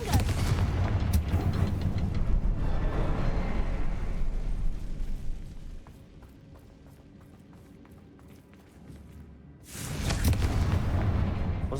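A Confringo blasting spell explodes in Hogwarts Legacy, a heavy rumbling boom that rolls on for several seconds, fades, then a second loud blast erupts near the end.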